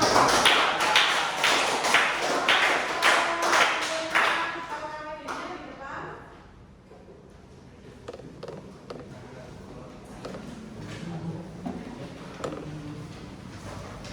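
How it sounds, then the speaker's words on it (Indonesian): Students in a classroom clapping, a burst of loud, uneven hand claps over the first few seconds that fades into scattered taps and light knocks, with voices talking in the room. "Oke, beri tepuk tangan untuk kita semua."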